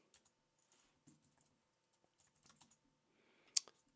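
Quiet, sparse keystrokes tap on a computer keyboard in small irregular bursts, with one sharper click near the end.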